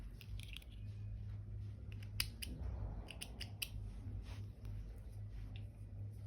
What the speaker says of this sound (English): now you can cut your yarn